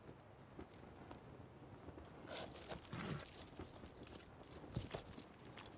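A horse's hooves clip-clop at a slow walk on open ground in a medieval battlefield setting, quiet and irregular, with faint jingling of tack and a low outdoor hush.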